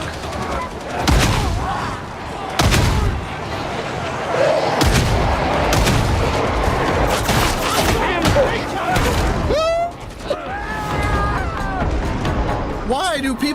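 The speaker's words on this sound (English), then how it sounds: "Why do people shoot the stuff while someone is standing there?" Heavy booming gunfire and blasts from a Warhammer video game hit repeatedly and loudly, mixed with someone talking over the chaos.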